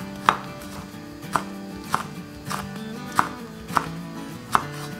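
A knife slices garlic on a cutting board in six or so crisp, evenly spaced chops, each a sharp knock over a quiet background.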